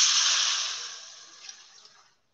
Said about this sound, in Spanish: Acá voy a poner mi agua.